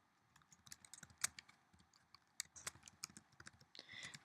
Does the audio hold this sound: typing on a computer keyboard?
yes